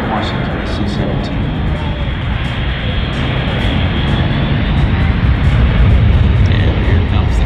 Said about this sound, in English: And this is about as much noise as this airplane is ever going to make.